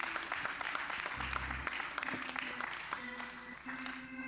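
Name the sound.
audience applause for kids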